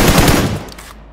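Loud, close automatic gunfire fills a squad fight in the mobile battle royale game BGMI, a rapid burst that trails off within a second.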